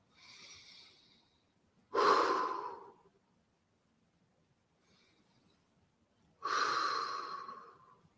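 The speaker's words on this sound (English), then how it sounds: "I want you to breathe long, and when you finish, you breathe one on top." Long, deep breathing exercise: two strong drawn-out breaths about four seconds apart, each preceded by a softer, quieter breath, close and clear with no speech.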